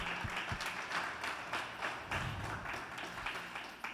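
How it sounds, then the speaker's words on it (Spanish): A church congregation gives a round of applause during a Spanish-language sermon, many hands clapping in a moderate, continuous patter, heard fairly quietly with a few sharper taps near the start. "denle el aplauso al Señor"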